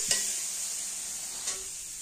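Food sizzles steadily in a pan on a gas stove in a home kitchen, with two brief scraping stirs of a utensil breaking through the continuous hiss.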